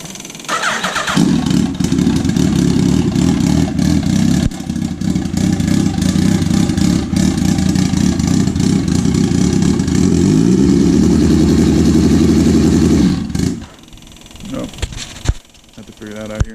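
A turbocharged 2011 second-generation Suzuki Hayabusa fires up and idles loud and close with a steady deep rumble for about twelve seconds, then shuts off, with someone talking over it.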